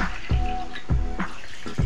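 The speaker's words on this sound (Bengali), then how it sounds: "দিয়ে আমি একটু এবার জল দেবো।" Water poured into a cooking pot for dalia (cracked wheat) pulao, heard as a close, steady splashing stream with rhythmic gulping surges about every half second.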